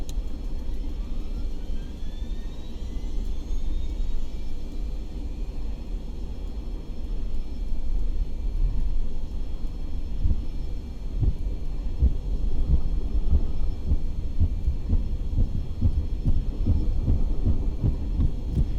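MV-22 Osprey engine starting in the X-Plane 11 flight simulator, a low rumble and faint whine building into a louder, rhythmic, thumping turbine drone with no talk.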